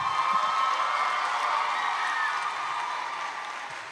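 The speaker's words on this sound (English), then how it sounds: "Give a standing ovation." High school graduation ceremony audience gives a standing ovation, a thick continuous roar of clapping from a large crowd, loud at first and tapering slightly toward the end.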